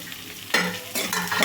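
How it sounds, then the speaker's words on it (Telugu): Chopped beans and carrot pieces drop into a hot pan over high flame, two bursts of loud, close sizzling with stirring in between, no voices. "1 సెకండ్ పాటు వేయించుకోవాలి."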